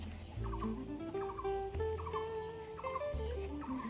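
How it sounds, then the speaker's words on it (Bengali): Various birds call outdoors in the morning, including fowl-like clucks and chirps, with rhythmic repeated calls over faint steady background noise and low rumbles. "চারিদিকে বিভিন্ন রকম পাখির আওয়াজ শুনতে পাচ্ছ হবে"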